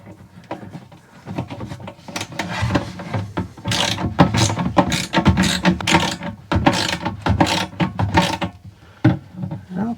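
Ratcheting clicks from a 15 mm socket wrench tightening a water hose fitting during a cargo trailer water install, coming in repeated bursts of close, busy mechanical clicking.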